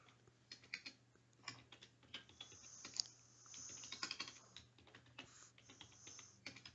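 Fairly quiet computer keyboard typing in irregular bursts of light clicks, with a low steady hum beneath and no talking.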